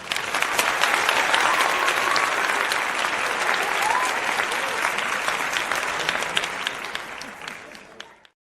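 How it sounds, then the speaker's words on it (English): A full round of applause from a crowd, dense clapping that swells early, holds steady and then fades out near the end, with a faint voice underneath. "you guys deserve a round of applause also"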